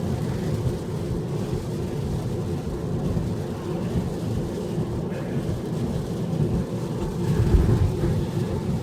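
Steady rain noise heard from inside a Tesla driving on Autopilot, a continuous low rumbling wash of water and road noise without pause, with no talking.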